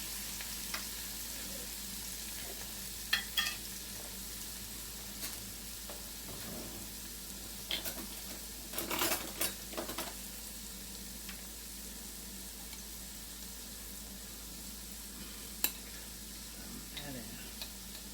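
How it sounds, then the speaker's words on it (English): Onions, green peppers and garlic fry in olive oil with a steady, faint hiss, broken by a few brief clinks and scrapes of a utensil in the pan. "in that olive oil, we're going to add our onions, green peppers, and a garlic"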